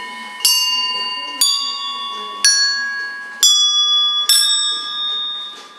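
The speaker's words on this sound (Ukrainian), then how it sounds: "Це ручний дзвінок." An engraved, handmade hand bell from India rings five times at roughly one-second intervals, each clear metallic strike loud and close, with the tone ringing on and slowly fading between strikes.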